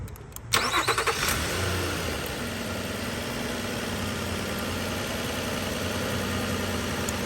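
A car engine cranks briefly and catches, then settles into a steady, moderately loud idle that runs alone for several seconds, during troubleshooting of a faulty AC compressor clutch.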